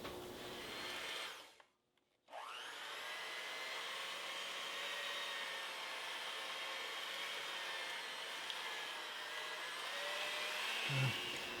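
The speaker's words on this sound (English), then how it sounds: "I'm just going to take my hand mixer, and I'm going to start mixing all of these ingredients together" A handheld electric mixer beating thick cheesecake ingredients with peanut butter, a steady close whirring drone that stops briefly near the start, then runs on evenly and ends with a small bump.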